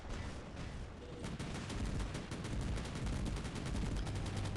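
Sustained rapid weapon fire from a prototype gun aimed at prototype bots in a mech combat video game, a dense, loud, continuous stream of shots lasting the whole stretch with no pause.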